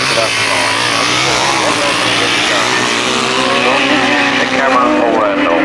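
Grasstrack racing motorcycles at a 1991 meeting roar around a turn, a loud, dense, continuous engine blare close by with no break over several seconds.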